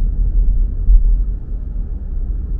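A car drives through a small old railroad town, a loud, steady low rumble of engine and road noise heard from inside the vehicle.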